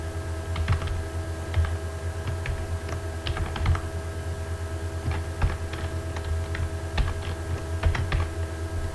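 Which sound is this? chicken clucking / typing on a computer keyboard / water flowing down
typing on a computer keyboard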